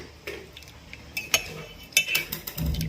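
Spoon stirring lemon ginger honey tea in a cup, a few close, bright clinks and taps of metal against the rim and side, sparse and quiet with no talk.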